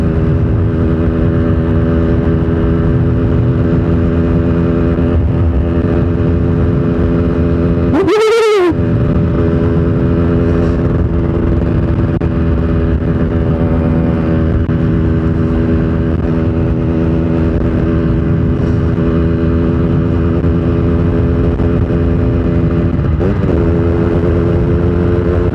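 A Kawasaki ZX25R, a four-cylinder 250cc motorcycle, riding at night gives a loud, steady, high-revving engine drone throughout, with one brief sharp whoosh partway through and no talking.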